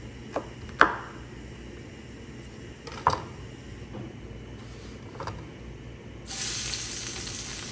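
Garlic sizzles in hot olive oil at a low steady level, with a few sharp knocks and clatters scattered through it, then a louder hiss of frying takes over near the end.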